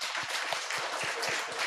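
Church congregation clapping during a worship service, a dense, steady wash of hands with a regular low thump beating through it, continuous and fairly close for the whole stretch.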